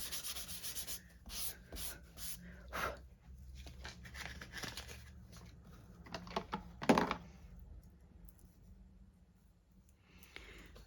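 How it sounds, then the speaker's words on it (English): An embossing tool rubs over a paper card base in a run of soft, dry scraping strokes with small taps between them, quiet and close. "I'm going to come back in with my embossing buddy, and I'm going to emboss the whole base of this card."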